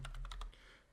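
A name being typed on a computer keyboard: a quick run of five or six crisp key clicks in under half a second, close and quiet, then stillness.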